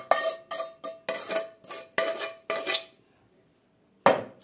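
A metal spoon scraping powdered milk from the inside of a pot, making about seven quick rhythmic scraping strokes that ring with a metallic tone, then a pause and one final scrape, close and clear with no talk.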